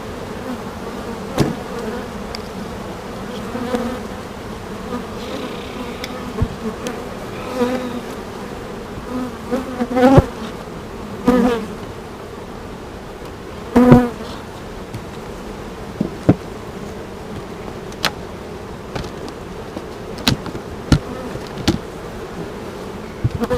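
Honey bees buzz around an open beehive, a steady close drone with individual bees zipping past the microphone now and then, plus scattered light knocks and clicks from hive boxes being handled.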